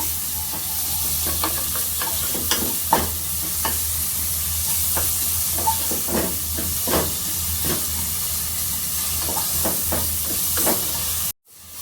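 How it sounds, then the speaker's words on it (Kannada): Onions, green chillies, salt and kasuri methi frying in a pan, a steady hiss and sizzle with repeated clicks and scrapes of stirring, close and moderately loud, ending in a sudden cut with no talking. "ಉಪ್ಪು ಮೆಣಸಿನ್ಕಾಯಿ ಹಾಗೆ ಈರುಳ್ಳಿನ ಹಾಕೊಂಡು ಚೆನ್ನಾಗಿ ಫ್ರೈ ಮಾಡೋಣ"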